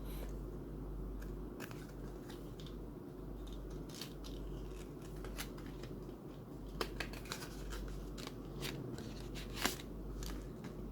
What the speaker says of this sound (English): got a scissors here to cut the SD card because it's pretty thick